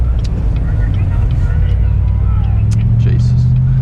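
Chevrolet Corvette C7 Stingray with a V8 and automatic 8-speed gearbox, driving on American streets: a steady, loud low engine rumble runs throughout, with a slight rise in pitch near the end, heard from inside the car.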